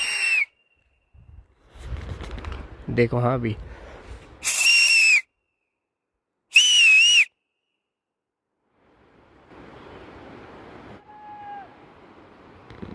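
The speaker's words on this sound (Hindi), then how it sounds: "तो अभी देखो मैं सीटी बजाता हूँ" Fishermen by a mountain river signal with whistles: after brief speech, two loud, close whistles ring out a couple of seconds apart, and a fainter, distant whistle answers near the end.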